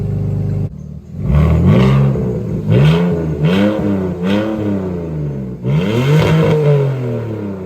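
A BMW E46 fitted with a Megan Racing blast pipe revs loudly and close by, its exhaust note rising and falling through a series of rev swells and downshifts.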